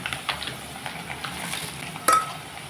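Salted potatoes frying in a pan until browned: a soft continuous sizzle with scattered stirring scrapes and one sharper clink of utensil against the pan near the end.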